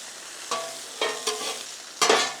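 Onions fry on a griddle for smash burgers, a steady sizzle punctuated by four scraping stirs of a spatula, loud and close.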